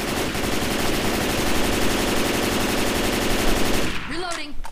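Rapid gunfire rattles continuously from a video game, Left 4 Dead 2, as shots are fired through a wall, a dense, loud burst for about four seconds before it cuts off and a voice speaks.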